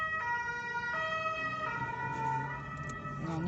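A two-tone Carabinieri police car siren alternates steadily between high and low pitches as it passes, fairly faint, over a low background rumble of traffic.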